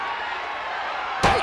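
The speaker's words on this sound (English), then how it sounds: "Super kick finds the mark" A sharp, loud smack lands abruptly at the end of a stretch of crowd roar in the WWE 2K24 wrestling game, a single superkick impact close up.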